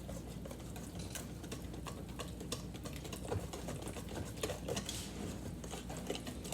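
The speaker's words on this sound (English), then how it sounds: "So you just mix it till it's all incorporated like pancake batter." Whisk or spoon beating a thin manicotti shell batter, like pancake batter, in a bowl: a fast, continuous rattling patter of close tapping, heard alone without talk.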